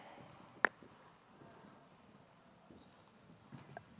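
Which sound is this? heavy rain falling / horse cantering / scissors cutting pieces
horse cantering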